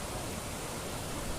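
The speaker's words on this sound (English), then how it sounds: "oh, this called waterfall." Waterfall in Shillong, Meghalaya, heard as a steady, dense roar of falling water, loud and close, with no pauses or voices.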